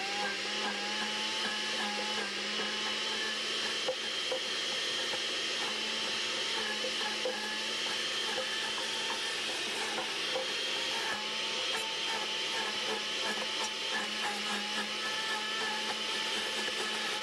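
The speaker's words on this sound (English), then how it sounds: "You're going to want to blend until you have a thick paste." A kitchen blender grinds fresh herbs into a thick paste, making a steady, dense whirring roar that runs unbroken from start to finish.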